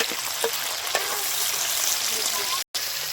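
Tomatoes fry for sambar in a hot pan, giving a steady close sizzle with a few faint taps of a stirring utensil.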